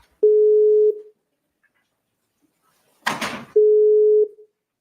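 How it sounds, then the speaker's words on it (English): Two identical steady electronic tones from a telephone, each lasting under a second, separated by a pause and a brief rustling clatter, sounding clear and close with no talking over them. "Someone's phone's going."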